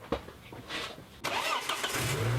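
A Volvo 850 engine cranks and fires up after a timing belt replacement, then settles into a steady, moderately loud idle with a low hum, close by.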